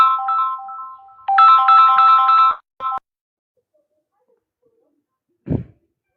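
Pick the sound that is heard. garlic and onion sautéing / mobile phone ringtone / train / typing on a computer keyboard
mobile phone ringtone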